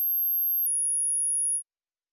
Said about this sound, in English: It's moving up because I'm broadcasting a tone.